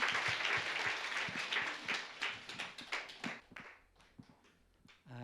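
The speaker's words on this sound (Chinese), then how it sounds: "我们将掌声献给我们的上帝" Church congregation applauding after a worship song, a dense burst of clapping that gradually thins out into scattered claps and fades toward the end, with no talk over it.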